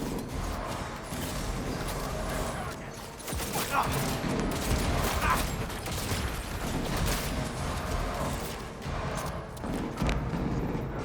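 Gunfire in Cyberpunk 2077 during a mission in the Arasaka building, a dense, continuous barrage of shots and thuds mixed with game ambience, steady and moderately loud throughout.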